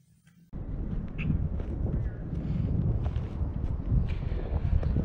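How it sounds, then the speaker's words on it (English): Wind blowing outdoors on a warm, windy day, steady buffeting rumble against the microphone that starts abruptly and continues with gusty fluctuations throughout. "But it is windy, and it's very warm."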